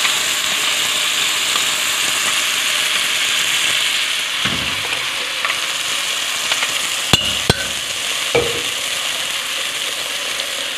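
Blended masala goes into a hot pan for black chana curry, producing a steady close sizzle that carries a few sharp utensil knocks against the pan.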